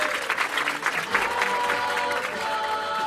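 Steady, dense clapping from a crowd at a French village celebration in Rochefort-en-Terre, sustained and loud throughout with faint cheering mixed in.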